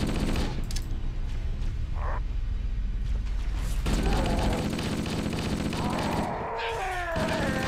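Enemy gunfire in the video game Halo, a dense run of loud, rapid shots and weapon effects that packs the whole clip, with no talking.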